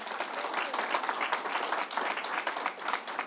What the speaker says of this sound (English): Let's give Fanny a round of applause